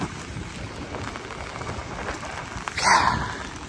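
Steady rain falls on a wet day outdoors by a delivery van, a constant hiss of drops throughout with a brief louder splash or gust near the end; no talking.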